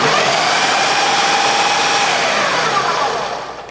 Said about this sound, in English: I've got a Ninja that has food processor and a blender and a smaller blender attachment.